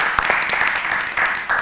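A studio audience on an Indonesian technology talk show claps to welcome a guest, a brief burst of applause with distinct individual claps over a couple of seconds.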